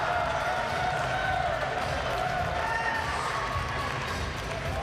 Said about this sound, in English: A lot of support from the home crowd here at Perm.